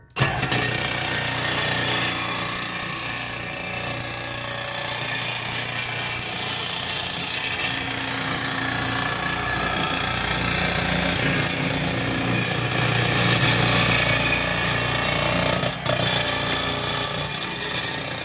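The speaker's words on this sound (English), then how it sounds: "we got some stainless steel here, and this is the Millner-Haufen Nibbler" A Millner-Haufen nibbler cuts through stainless steel sheet with a steady, loud mechanical grinding and buzzing that runs continuously, close up, with no talk over it.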